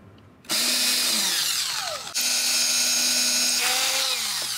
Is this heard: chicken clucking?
no